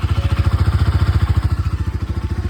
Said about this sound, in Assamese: বাইকৰ ইঞ্জিনটো চালিয়া হৈ আছে